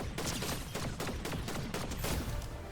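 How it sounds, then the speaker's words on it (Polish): Rifle gunfire in the video game Fortnite, a rapid string of sharp shots in an irregular burst rhythm over dense game noise, loud and continuous throughout. "zobaczcie przy okazji ten karabin w akcji"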